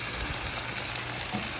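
Chicken liver and pepper sizzle steadily in a frying pan while being stirred, a close, continuous crackling hiss.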